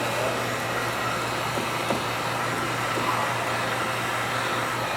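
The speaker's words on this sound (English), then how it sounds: "Then you run your heat gun along the bottom edge to make sure all your fingers are heated out" Heat gun blowing steadily along the bottom edge of window tint film on a car door, a constant close airy roar with a low hum underneath and no pauses throughout.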